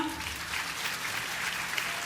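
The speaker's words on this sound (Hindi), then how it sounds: "या जोरदार तालियां," Applause for students at a school sports prize ceremony, a steady wash of many hands clapping at a moderate distance, even in level throughout.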